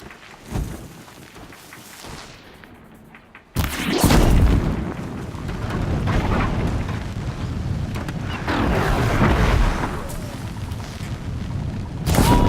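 Heavy gunfire and booming explosions from the Horizon Zero Dawn video game, a dense, loud barrage that swells and rolls for several seconds after a quieter opening.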